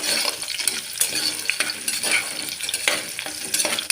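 Onions soften in a pan for sambar rice, a continuous bright sizzle overlaid with repeated scraping and clinking strokes of a spoon stirring, close and fairly loud, with no talking.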